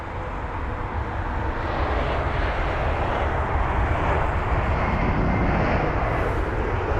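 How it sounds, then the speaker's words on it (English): An Aer Lingus Airbus A320 lands at London Heathrow, its engine roar and rushing noise steady and loud throughout, growing slightly stronger toward the end. "There is the Aer Lingus 320. The very nice smooth touchdown."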